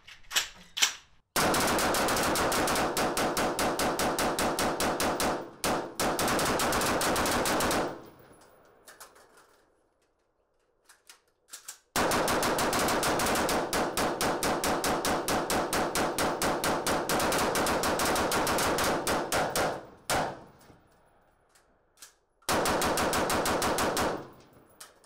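Rapid rifle gunfire empties 30-round magazines in two long, dense bursts of fast, evenly spaced shots, each lasting several seconds, with a quiet pause between them and short closing volleys at the end.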